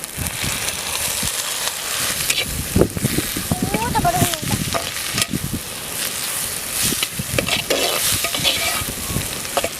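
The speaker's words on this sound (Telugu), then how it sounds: "ఎండు రొయ్యలు వేడుతుంటే మంచి కమ్మని స్మెల్ వస్తుంది" Dried prawns fry in a hot pan with a constant close sizzle, broken by repeated scraping and clattering strokes as they are stirred.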